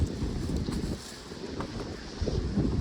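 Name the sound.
strong wind on a mountain trail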